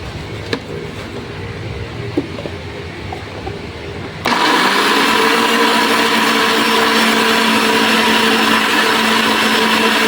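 After a few seconds of quiet room noise, a blender switches on abruptly, blending aloe vera with a little water, and runs with a loud, steady, high whirring roar until the end.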